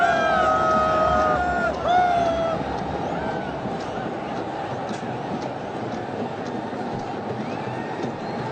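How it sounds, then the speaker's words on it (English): A large crowd at a T20 cricket stadium in a Pakistan versus Sri Lanka match, a dense roar of cheering and babble that swells early then settles into a sustained wash, with a few whoops rising above it. "Very expressive crowd."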